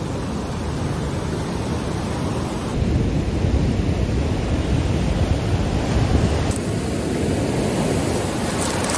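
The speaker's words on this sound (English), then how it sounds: "Wow, these waves though." Heavy Pacific surf at Ruby Beach on the wild Washington coast, a loud, continuous roar of breaking waves with surging swells and no voices.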